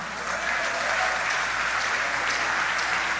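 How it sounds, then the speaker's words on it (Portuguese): A church congregation claps steadily and densely, broadband applause filling the whole span at an even level, with no voices over it. "Então dê um forte aplauso ao Senhor."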